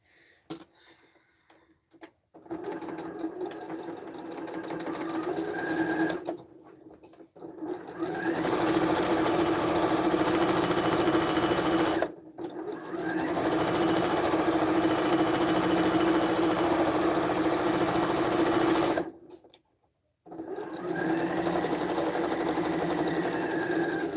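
A sewing machine stitches a tote bag in long continuous runs, loud and steady, with short pauses between seams; no talking.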